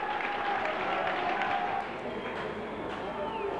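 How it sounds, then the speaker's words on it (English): Cricket crowd applauding and cheering in a stadium, a steady roar of clapping and voices heard at a distance, softening partway through, with a commentator talking over it. "The crowd on their feet, complete eruption of emotion here."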